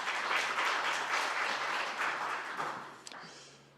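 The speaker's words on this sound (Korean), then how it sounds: "활기찬 박수 부탁드립니다." Lively applause from an audience at a national future-strategy seminar as a commission chairperson walks to the podium, dense and steady before thinning out near the end.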